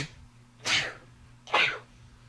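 Two short sharp sneezes, close and fairly quiet, about a second apart, over a low steady hum.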